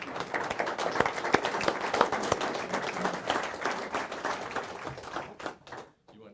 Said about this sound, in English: So, Jamie, let's give her a round of applause.